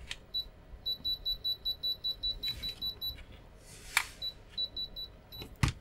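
Non-contact voltage detector alarm on a TOOLTOP ET13S thermal camera multimeter held near a live mains lead, giving a rapid, regular run of high electronic double beeps that stops partway, followed by a few faint clicks.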